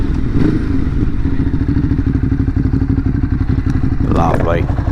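A Ducati motorcycle engine runs steadily and close, throttling down as the bike pulls up to a stop, with a brief clatter near the end.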